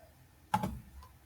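A single sharp computer keyboard key press with a faint click a moment later, isolated and close in a quiet room while a web to-do list app is built.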